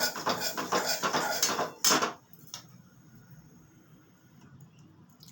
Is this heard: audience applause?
no